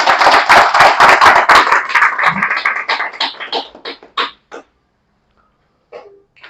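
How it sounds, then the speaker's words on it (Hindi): Audience applause for a guest at a succession-planning seminar, a dense burst of hand clapping that thins out into scattered claps and fades to near silence, with a couple of isolated claps near the end. "अब राजेश भाई के लिए जोरदार तालियां।"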